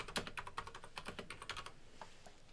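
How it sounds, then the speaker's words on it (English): Quick typing on a computer keyboard, a fast patter of close light key clicks that thins out toward the end, heard alone with no voice. "as I type here,"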